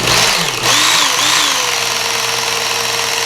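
A belt grinder runs steadily while a knife is sharpened on its finest belt, a loud continuous mechanical whine and hum with a brief dip early on, then an even drone throughout.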